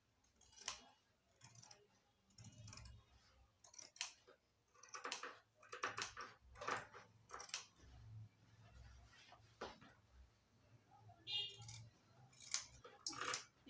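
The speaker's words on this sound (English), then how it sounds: "I'm taking my scissors to cut out" Scissors cut through Ankara print fabric and leather with a series of sharp, close snips and clicks spaced irregularly, interspersed with quiet handling sounds and faint rustling.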